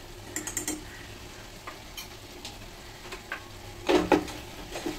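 Vegetable pulao with Schezwan fried rice masala stirred in a pan: soft scraping and clinks of a spoon against the pot over a faint sizzle, with a louder clatter near the end.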